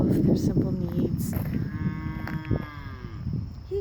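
Cow moos outdoors on a nature walk, a long drawn-out low call up close, with rustling and a brief voice mixed in.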